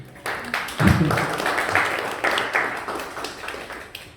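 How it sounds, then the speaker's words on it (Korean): A small group claps for a few seconds, scattered hand claps that start unevenly and settle into a brief round of applause. "우리 이사님하고 두 분 오셨는데 박수 한번 주세요"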